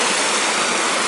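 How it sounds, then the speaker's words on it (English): Waterfalls at Tierra Linda pour in a steady, loud broadband roar of rushing water, close by and unbroken, with no voices over it. "these are the waterfalls of Tierra Linda"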